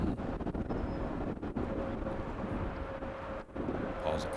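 Strong wind gusting across an open disc golf course, a steady broadband rush with buffeting against the microphone throughout, under faint background voices.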